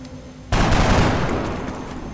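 A single loud soldier's gunshot from the XCOM Long War video game bursts out suddenly after brief quiet, then rings and decays slowly with a long echoing tail.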